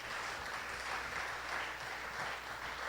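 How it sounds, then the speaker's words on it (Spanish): Church congregation applauding in unison, a thick continuous wash of clapping from many hands with a slight pulsing swell, steady and fairly close. "Dale un aplauso al Señor en esta hora"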